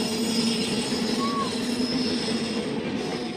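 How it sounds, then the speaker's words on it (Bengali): The Kanchanjunga Express rolls past on the rails, a loud, steady rumble of wagons and wheels with a brief metallic squeal, heard close by from a waiting train. "দেখো বেরিয়ে গেল কাঞ্চন"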